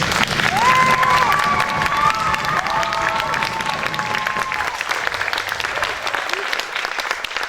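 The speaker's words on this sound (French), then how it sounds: "Je crois que nos 13 candidates méritent encore vos applaudissements." A full hall claps steadily for the thirteen Miss Aisne 2020 pageant candidates, with scattered cheers. Sustained musical tones sit under the dense applause, which thins slightly toward the end.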